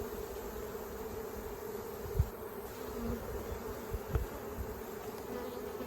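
Honey bees buzz steadily and close up around an open hive during an inspection, a continuous droning hum with a few soft knocks and bumps.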